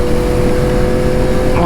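Yamaha MT-10 motorcycle at close range, its loud exhaust rumble running steadily with a brief rise near the end as gears shift, heard from the rider's position under wind.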